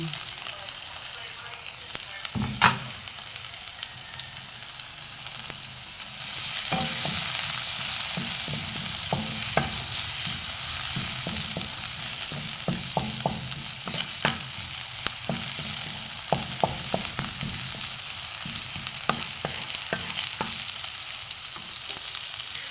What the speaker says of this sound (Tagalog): Sunod natin ang sibuyas at bawang.